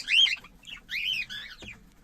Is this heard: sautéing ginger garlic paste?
no